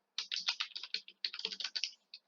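Brisk bursts of keystrokes on a computer keyboard, close and clear, in two quick runs with a short pause between and a final lone tap at the end.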